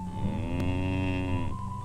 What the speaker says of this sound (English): The big cow lowed.